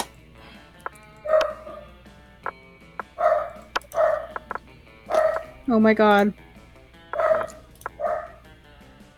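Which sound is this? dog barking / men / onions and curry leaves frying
dog barking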